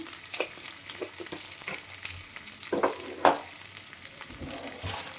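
Garlic and cumin seeds frying in oil in a pan, a steady close sizzle with scattered crackles and a few louder spatters and stirring scrapes, no voices.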